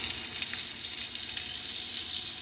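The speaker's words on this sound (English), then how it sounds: "sausage getting cooked down back there." Sausage sizzling and frying in a pan on the stove for homemade gumbo, a steady, close hiss that runs the whole time without talk.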